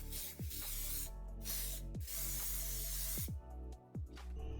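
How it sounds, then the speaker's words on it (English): Cooking oil sprayed onto a casserole or baking tray in short hissing bursts, about four to five quick sprays in close succession, up close and fairly loud. "we're going to grease it with spraying oil or butter"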